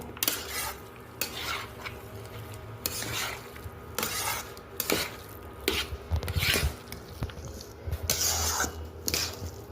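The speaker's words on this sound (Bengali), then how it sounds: "এবার এগুলো একসঙ্গে মিক্স করে নিচ্ছি" Carrot halwa ingredients with almonds being stirred together in a cooking pan, a spoon scraping and clinking against the metal in repeated strokes, close and fairly loud, with no talking.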